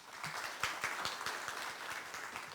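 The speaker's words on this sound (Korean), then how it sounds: "여러분 박수 부탁드립니다" An audience at a broadcasting forum applauds a guest professor, a steady patter of many hands clapping together at moderate distance, continuous throughout.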